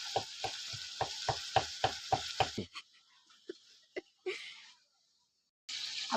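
Meat frying sizzles in a pan with a rapid series of sharp crackling bursts early on, then scattered pops and a brief hiss, fairly quiet and close with no talk.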